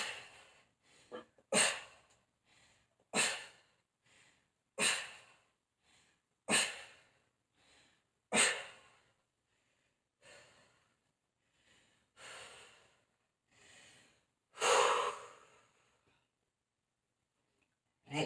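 Heavy breathing during a rest between upper-body strength exercises comes as a series of separate forceful breaths, one roughly every one to two seconds. The breaths are close and vary in loudness, with near silence between them.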